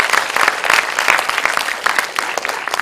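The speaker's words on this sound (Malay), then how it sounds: "marilah sama-sama kita berikan satu tepukan yang gemuruh kepada para penulis kita yang ada pada kami" Steady, dense applause from an audience honouring the writers at an engineering alumni talk session, continuous hand clapping filling the room with no voices over it.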